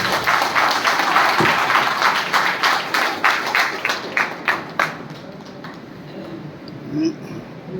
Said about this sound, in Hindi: इन मेहमानों का एक बार जोरदार तालियों से स्वागत है।